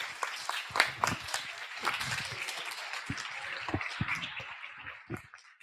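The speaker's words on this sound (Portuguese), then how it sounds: "Palmas para a Tereza." Audience at a Brazilian education seminar's closing symposium claps for a speaker, sparse distinct hand claps building into a moderate round of applause that gradually thins out, fairly quiet.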